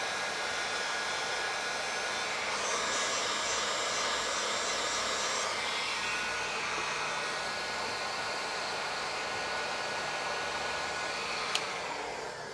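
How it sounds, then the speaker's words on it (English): Heat gun blowing a steady, loud, close fan-and-heater whoosh while shrinking heat shrink wrap during an LG front-loading washer repair, with a sharp click near the end and no voices. "Let's heat shrink our heat shrink wrap."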